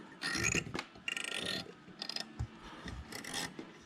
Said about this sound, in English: You're going to twist, push this rod out